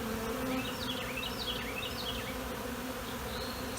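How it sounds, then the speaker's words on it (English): A dense, steady buzzing of many bees close by, with a few chirpy bird calls faintly in the background. "I want you to see these bees."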